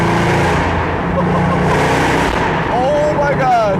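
Mercedes C63 AMG with a freshly built engine pulls hard on a slick road, a loud, steady broadband drone filling the cabin, with a rising whine sweeping upward near the end as speed builds.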